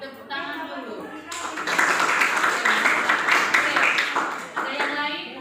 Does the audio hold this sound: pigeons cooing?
no